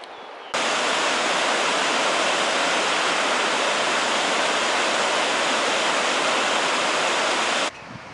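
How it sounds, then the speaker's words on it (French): A mountain torrent in the Norwegian fjords roars steadily, a dense, continuous rush of water that starts abruptly, holds loud and unbroken for about seven seconds, then cuts off. "je vais à un torrent qui est plus bas"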